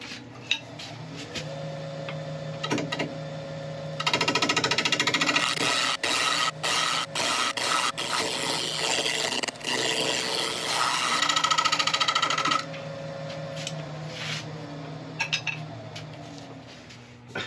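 A wood lathe spins a burl while a tool works along it with the rest set at right angles. A steady motor hum runs beneath scraping, rasping cutting bursts that swell loud in the middle, then fade back.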